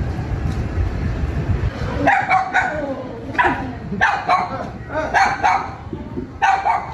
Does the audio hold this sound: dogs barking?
yes